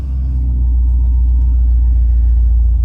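A car engine rumbling steadily throughout a ride, a loud, constant low drone heard from inside the vehicle, with no voices.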